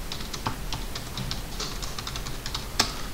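Keys tapped on a computer keyboard while entering an AutoCAD command, the letter O followed by Enter: a run of light, quick clicks with an uneven rhythm and a sharper final press near the end, close and alone.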